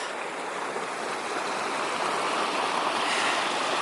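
Continuous broadband rush of water flowing at a stream source, steady and fairly close, with no voices or other sounds.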